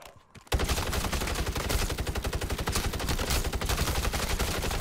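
Sustained rapid automatic gunfire from the MW3 Zombies video game bursts in abruptly after a short quiet moment and continues as a dense, steady rattle to the end.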